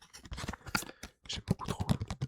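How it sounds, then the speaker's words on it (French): Playing cards are handled up close in a quiet ASMR setting, giving crisp irregular taps, flicks and scratchy rustles in short bursts with a brief pause midway. "J'aime trop les cartes, le trigger des bruits des cartes."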